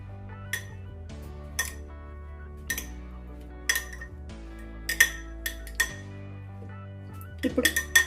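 A utensil clinks and taps against a bowl while cucumber salad ingredients with sweet corn and coriander are mixed, giving irregular metallic chimes over a low steady hum, busier toward the end.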